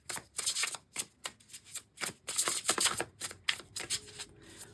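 Tarot cards being handled and one pulled from the deck: a run of crisp, papery riffles and flicks in quick irregular bursts, close and fairly quiet, with no voices.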